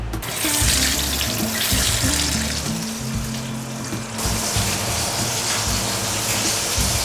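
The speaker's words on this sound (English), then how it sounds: "always use only hot water to rinse the meat because cold water is gonna get the blood back into the meat" Hot tap water runs steadily into a sink to rinse pork belly, a loud continuous splashing gush with no voices.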